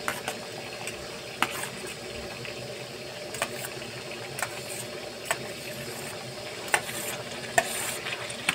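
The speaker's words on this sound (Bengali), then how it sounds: "এবার দেখো খুব সুন্দর করে কিন্তু নাড়ছে মা।" Egg, carrots, cashews and raisins are stirred in a frying pan in a home kitchen, with a steady sizzle throughout and scattered sharp clinks of a spatula against the pan.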